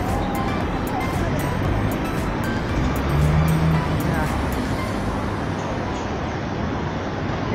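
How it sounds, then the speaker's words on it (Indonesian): Small minibus passing on a roadside street beside a market in Tsuen Wan, Hong Kong, a steady broadband traffic rumble that stays loud and continuous throughout, with general street noise mixed in. "ini ada bis kecil"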